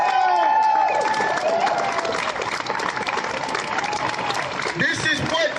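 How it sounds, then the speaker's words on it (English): A crowd at a street protest claps and cheers in a steady, loud wash of applause, with shouting voices and whoops layered on top throughout. "Can we give my man a bigger round of applause?"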